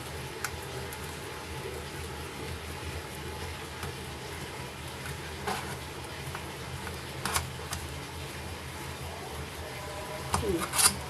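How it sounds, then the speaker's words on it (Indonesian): Hot boiled potatoes being mashed, a soft continuous rubbing and scraping with a few sharper knocks of the utensil against the bowl, fairly quiet and close. "Mumpung masih panas, kita haluskan."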